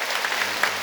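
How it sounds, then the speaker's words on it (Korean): Congregation in a church service claps in welcome for newcomers, a steady dense wash of applause filling the whole moment without a break. "여러분 그 박수로 환영하실까요?"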